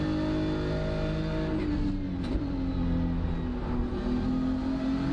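A BMW race car engine in the iRacing game at Road Atlanta drones loudly and steadily, its pitch sagging through a downshift to fourth gear and then climbing again, with no talk.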